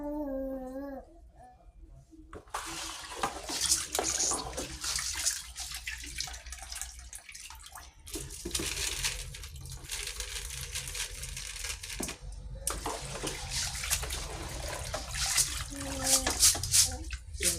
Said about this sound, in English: We are going to be giving it the last washing before soaking.